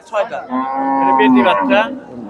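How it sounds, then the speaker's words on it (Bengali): A six-toothed Friesian cow moos loudly and close by at a cattle market, one long drawn-out low call with rising and falling pitch, alone without voices. "ছয় দাঁতের গাভী"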